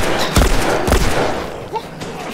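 Gunfire in The Last of Us, with two heavy, loud shots about half a second apart followed by a softer report, over game ambience with a voice talking.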